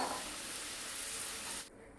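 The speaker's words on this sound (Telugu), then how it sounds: "మధ్యలో కలుపుకుంటూ డీప్ ఫ్రై చేసుకోవాలి." Sweet corn deep fries in hot oil with a loud, steady sizzling hiss that drops away abruptly near the end.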